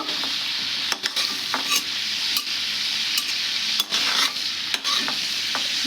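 Prawns fry in hot oil with a steady, dense sizzle, broken by a handful of sharp scrapes and clinks as a utensil stirs and turns them in the pan; nobody speaks.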